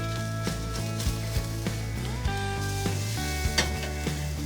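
Sushi-grade tuna steak sizzling on a grill, a steady close crackle running throughout, with a few light clicks and taps of tongs against the grate.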